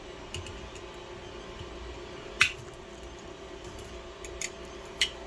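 Cutters snip through coil wire on a 3D-printed jig for a double Fibonacci coil, making a few sharp, faint clicks against a quiet room hum.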